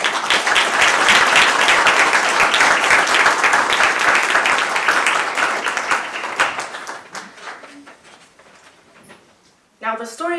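Audience applause at a Palestine solidarity conference evening, dense loud clapping that fades out over several seconds before a voice begins speaking.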